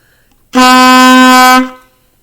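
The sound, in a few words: saxophone playing a note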